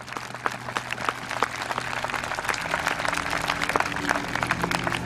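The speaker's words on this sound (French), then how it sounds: "je vous demande, pour les encourager, d'applaudir la Légion 7" Steady applause from a crowd for a Roman legion reenactment group, many hands clapping continuously at a moderate distance.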